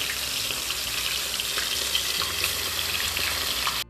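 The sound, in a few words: lady fish frying in a pan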